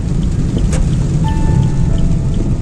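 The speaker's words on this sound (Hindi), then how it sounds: "अच्छी बात यह है कि बारिश थोड़ी थोड़ी अभी कम हो गई है" Steady heavy rain on a rough road in Gujarat, India, close and continuous, a dense hiss of drops pattering on surfaces with no voices.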